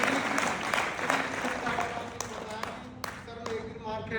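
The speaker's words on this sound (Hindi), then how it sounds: "थोड़ा ताली मारो भाई" Audience applause at a Guru Shishya Sammelan convention, a steady dense patter of many hands clapping throughout, with a few sharper individual claps standing out and faint voices mixed in.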